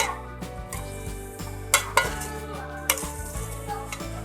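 Ingredients for a Punjabi-style aloo matar chicken being stir-fried in a pan, with a steady close sizzle and several sharp clinks of the spoon against the metal.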